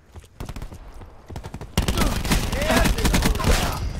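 Gunfire from a new gun in the video game Call of Duty Black Ops 4. Rapid, sharp shots come in quick bursts, then turn denser and louder halfway through into near-continuous fire.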